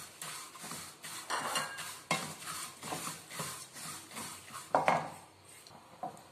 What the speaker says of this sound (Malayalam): ഇനി എള്ളി വറുത്ത് കൊടുക്കാം